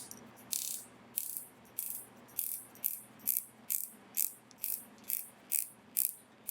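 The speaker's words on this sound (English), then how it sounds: "something to definitely love is the bezel action" Rotating bezel on a two-tone Wise Adamascuz AD8 watch being turned: a steady series of about a dozen crisp, close ratcheting clicks, evenly spaced roughly half a second apart, with no talking.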